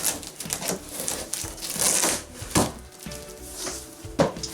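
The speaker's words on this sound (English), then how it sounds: "All right, styrofoam packaging." Styrofoam packaging being pulled and handled while unboxing a Cougar Blazer Essence PC case, with squeaky rubbing, creaks and sharp knocks close by in irregular bursts.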